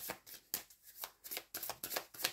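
Cards from a Petit Lenormand deck are drawn and shuffled close by, producing quick papery riffles and flicks in a rapid series of short bursts.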